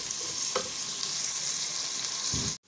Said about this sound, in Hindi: लकड़ी के चम्मच से चलाना है और इसको अब हम लोगों ने पिंक गोल्डन होने देना है